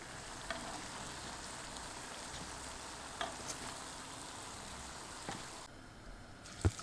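Pişi dough frying in hot oil in a pan, a steady soft sizzle and crackle with a few small pops and clinks, fairly quiet and continuous with no talking.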